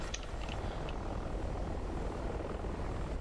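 Several military helicopters, including a Mi-24, SA-342, Chinook and Huey, flying in a video game, their rotor and engine noise forming a steady, dense drone throughout with no talk.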